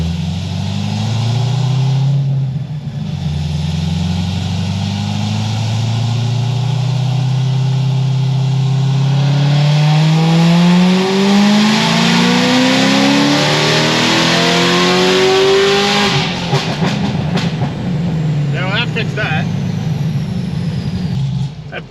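A Corvette C6 ZR1 making over 900 rear-wheel horsepower roars through a dyno pull, the engine note climbing steadily in pitch to a loud peak, then dropping off with crackling and whooshing as it lets off.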